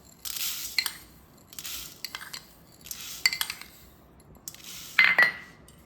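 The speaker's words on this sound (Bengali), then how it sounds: "এখানে আমি একটা পাত্রের মধ্যে 5 চামচ নিয়ে নিচ্ছি কালো সরষে" Black mustard seeds spooned into a bowl for kasundi, a few scooping scrapes and light clinking taps of a spoon against the bowl, close and quiet with no talking.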